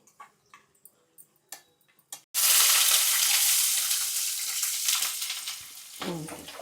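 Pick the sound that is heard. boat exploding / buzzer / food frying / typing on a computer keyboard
food frying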